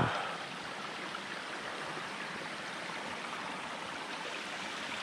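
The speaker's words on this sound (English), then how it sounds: "Oh, the waterfall in there." A stream and waterfall on a hiking trail at Mission Peak, giving a steady broadband rush of flowing water that holds at an even level throughout, with no voices.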